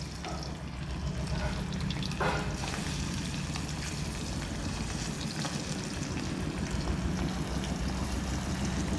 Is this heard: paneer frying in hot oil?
yes